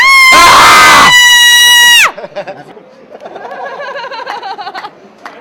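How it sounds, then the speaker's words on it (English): A loud, sustained scream at a wall fills the first two seconds, followed by quieter crowd chatter and laughter in the background. "Give us a scream."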